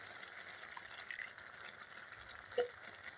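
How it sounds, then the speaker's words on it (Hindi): Water is poured into a pan of ghugni, a chana curry, as a faint, steady hiss and trickle with small splashes and light sizzling. "तो इस तरह मैं पानी डाल दी हूँ।"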